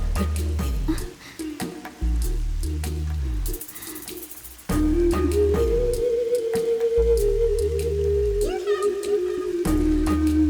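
Steady rain pattering on a surface in a Hindi-dubbed South Indian film scene, a wet puppy found outdoors, the downpour running as a continuous hiss beneath heavy music throughout.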